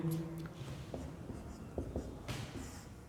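Teacher writing numbers on a board during a class 12 maths lesson on matrices, faint scratchy strokes in short bursts and taps, quiet and close, with a little low murmur in the background.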